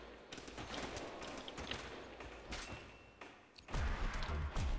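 Rapid M16 rifle fire from a Call of Duty Custom Zombies match crackles in sustained bursts, growing louder and heavier near the end.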